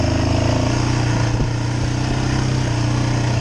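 A brand-new 2022 Yamaha Raptor ATV engine runs loud and close, a steady buzzing drone with a slight dip and recovery in revs partway through, and no talk.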